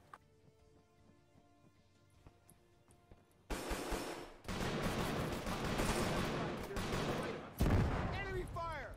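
Gunfire in a video game: quiet background at first, then a sudden burst of dense rapid shots with machine-gun fire and a final louder volley, close and sustained, with voices faint underneath.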